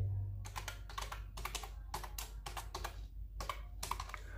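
Steady clicking of a computer keyboard as Arduino code is typed, with bursts of keystrokes in quick runs separated by short pauses, close and fairly quiet over a low background hum.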